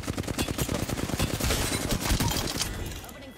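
Rapid automatic gunfire in the video game Apex Legends, a dense loud burst of shots that trails off into quieter echoes.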